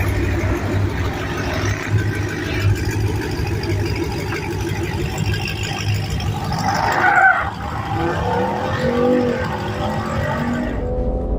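A drag racing car launches down the strip in a sustained loud roar, with a brief tyre-like screech burst midway before the engine note carries on and drops away at the end.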